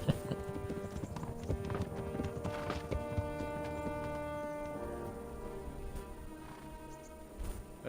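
Steady clip-clop of horse hooves at a walking pace in the video game Kingdom Come: Deliverance, continuous and fairly close, with a low ambient drone underneath.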